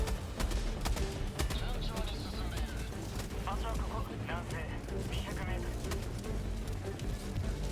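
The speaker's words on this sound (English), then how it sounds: "Devastators require sustained fire, and this is where the heavy machine gun's magazine capacity comes in handy" Heavy machine gun firing in the game Helldivers 2, dense rapid bursts and impacts filling the whole stretch, with a voice talking over the gunfire.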